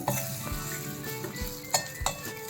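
Button idlis being stirred and tossed in a sizzling pan, an ongoing fry hiss with sharp clinks of the spoon against the pan at irregular moments, close and clear, no talk.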